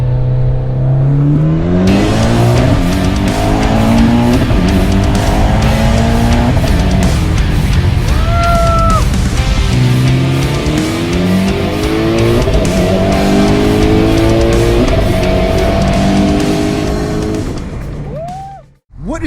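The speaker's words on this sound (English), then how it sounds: "I'm sorry for all the road noise." Loud engine drone and road noise fill the cabin of a Ford Focus ST while driving, with the engine repeatedly revving up and easing through gear changes, ending in a brief drop and pause.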